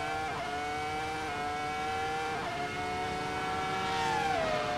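A Ferrari F2004 V10 Formula One car in Assetto Corsa screams past at high revs, a loud, piercing, continuous whine with pitch shifts as gears change and the car passes.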